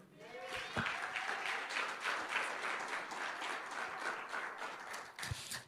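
Steady applause from a church congregation fills the room, a dense patter of clapping that carries on evenly throughout.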